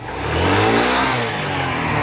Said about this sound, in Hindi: बाइक को हम क्लच जब छोड़ रहे हैं, एक्सीलेटर दे रहा है, तो बाइक आगे नहीं बढ़ रहा है